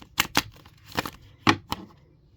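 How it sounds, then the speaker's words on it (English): Several quick, crisp riffling bursts of tarot cards being shuffled by hand, close up, with short pauses between them. "doing a quick shuffle"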